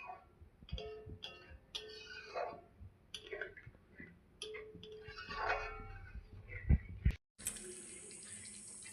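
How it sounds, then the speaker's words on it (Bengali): Water poured into a cooking pan of potatoes and pointed gourd, a brief running splash heard close among kitchen clatter and scattered clinks, fairly quiet overall. "এখন আমি একটু জল দিয়ে দেবো যেহেতু আলু এখনও সেদ্ধ হয়নি"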